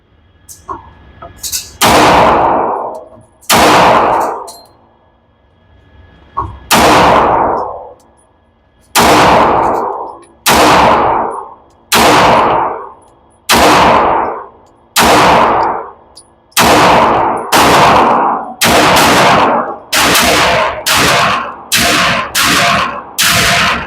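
A Girsan Witness 2311 Match pistol fires at a target outdoors: about sixteen loud, sharp gunshots with ringing echo, spaced unevenly at first, then coming faster in a quick string near the end.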